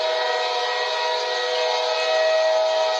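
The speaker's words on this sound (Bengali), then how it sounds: "অগত্যা ট্রেন পেতে পেতে অনেক রাত হয়ে গেল রমেনের" A train horn or whistle sounds as one sustained, loud, steady harmonic blast that holds unbroken from start to finish, with no voices.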